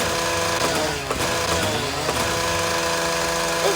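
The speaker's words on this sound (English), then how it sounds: "I'm gonna chainsaw everything." A chainsaw in a video game runs continuously with a buzzing, mechanical engine drone at moderate volume and small wavering changes, with no voices.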